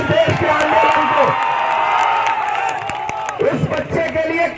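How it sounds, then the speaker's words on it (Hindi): A protest crowd applauds and cheers for a child, with a dense wash of clapping mixed with loud voices and shouts that swell and then briefly break up. "इस बच्चे के लिए कमजोर ताली बजी है"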